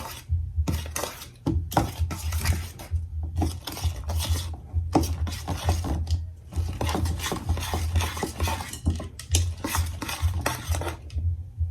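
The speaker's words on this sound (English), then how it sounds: "mixing up the brownie mix that's in the thing with the cream cheese" Brownie batter swirled with cream cheese in a bowl, a rhythmic rasping scrape of a utensil against the bowl repeating steadily and close for several seconds without pause.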